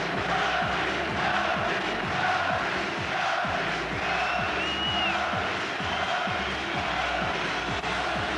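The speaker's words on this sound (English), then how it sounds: "The crowd here are certainly enjoying every moment of this." A boxing crowd at a Naseem Hamed fight roars in a continuous, dense wall of cheering and shouting that holds steady throughout, with scattered yells rising from the arena.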